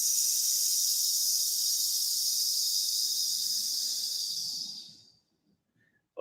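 A human voice imitates a snake with a long, steady hissing exhale shaped like the letter S during a qigong breathing exercise. The hiss is close and continuous for about five seconds, then fades into silence.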